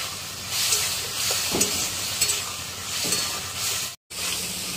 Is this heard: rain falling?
no